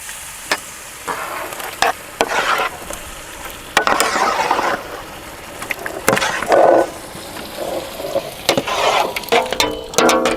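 A big beef leg dropped into melted butter in a pan, giving loud bursts of sizzling and frying with stirring and scraping clatter, in uneven surges and near at hand.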